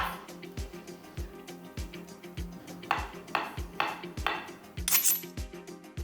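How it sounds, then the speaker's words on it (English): A knife chopping vegetables on a cutting board, a run of about ten quiet, evenly spaced thuds, close and fairly soft, with no talking. "if you flatten out your knife a bit, all right, chop, chop,"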